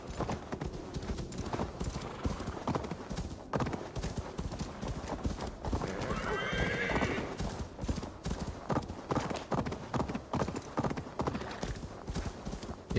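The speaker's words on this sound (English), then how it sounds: "There's a horsey here." Horse hooves clip-clopping in a steady rapid rhythm throughout in Assassin's Creed Valhalla video game, with a brief whinny in the middle.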